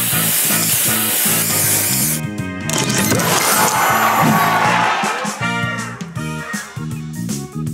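A spray booster fires in the mobile puzzle game Match Masters, a loud sustained hissing spray sweeping through bright chiming game music, followed by choppy bursts of tonal effects as the board reacts.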